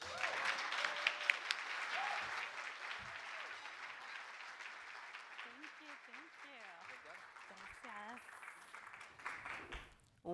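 Audience applause welcoming speaker Jenice Contreras at a City Club of Cleveland event, a dense sustained clapping from a large crowd that fades gradually, with faint voices underneath near the end.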